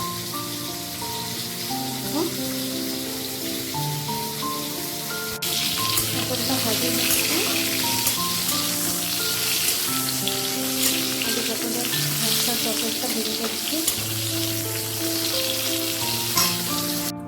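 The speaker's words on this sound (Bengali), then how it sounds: "তরকারি ভাজার জন্য সব ভাজিগুলি আমি একসাথেই বসিয়ে দিয়েছি" Mixed vegetables for a curry frying together in a pan for a Ram Navami offering; a close, steady hiss of sizzling swells up about a third of the way in and continues under tuneful background music.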